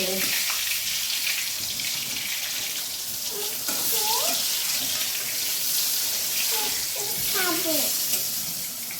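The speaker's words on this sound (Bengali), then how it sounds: "এইটা বেগুন ভাজা হচ্ছে" Eggplant (begun) slices frying in a home kitchen, a loud continuous hiss of sizzling oil close by, with a voice talking over it.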